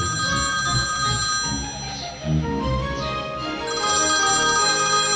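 A telephone rings indoors in a steady repeating electronic pattern. Each ring is clear and fairly loud, and it keeps going across the whole span with no voices over it.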